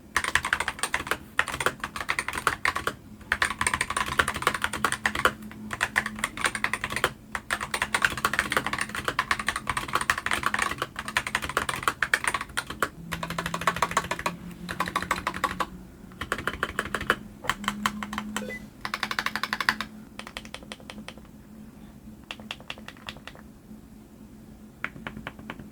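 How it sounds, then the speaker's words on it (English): Rapid typing on a Razer Huntsman V3 Pro TKL 8K keyboard with optical switches, dense clacking keystrokes close to the mic, with occasional pauses and bursts, easing into sparser taps near the end. "let's go into a quick sound test and actually just see how these optical switches sound"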